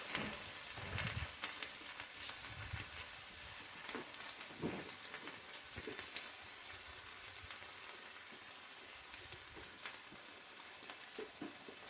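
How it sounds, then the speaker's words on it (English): Leftover spiral cut ham slices fry in a pan for a bacon and eggs breakfast, a steady close sizzle with soft crackles and occasional louder pops throughout, no talking. "spiral cut ham left over. I'll go ahead and throw those on. Get those cooking."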